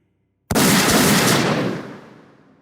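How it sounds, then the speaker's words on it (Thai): Single loud gunshot-like blast used as a sound effect in a ghost story narration, a sharp sudden crack after silence followed by a long fading reverberant tail. "ผมได้ยินเสียงปืนดังขึ้นสองนัด"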